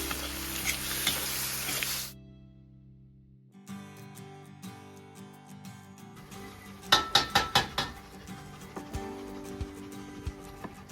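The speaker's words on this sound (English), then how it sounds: "Everything gets mixed and sautéed until soft and glossy." Tomato paste sautés in a pot with a steady sizzle, followed by a run of quick spoon scrapes and clinks against the pot's side as everything is mixed, close and moderately quiet.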